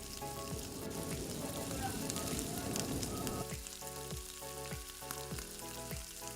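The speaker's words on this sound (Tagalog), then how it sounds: "Next, ilagay na natin ang ating kamatis." Tomatoes are added to garlic and onion sautéing in a pan for binagoongan bangus, and the dense frying crackle continues. It eases after a few seconds, leaving a lighter sizzle with a pulsing run of low scraping or stirring strokes.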